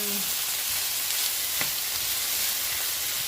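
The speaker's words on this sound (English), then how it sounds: "Next, I'm going to throw some of this in my wok with some fresh zucchini" Fresh zucchini stir-frying in a wok, giving a steady, loud sizzle and hiss throughout with a faint scrape of stirring partway through.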